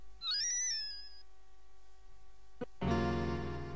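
A bird cry in the Breath of Fire II video game, a rising two-note whistling call with a warbling tail, followed by a short knock and a sustained synthesized musical tone.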